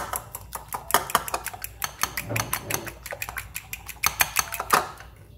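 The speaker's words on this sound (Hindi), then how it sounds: "पहले हम अच्छे से इनको फेंट लेंगे अंडों को" Eggs being whisked in a bowl for a cheese omelette, a run of sharp clinking taps of utensil against the bowl in quick irregular bursts, close and fairly clear.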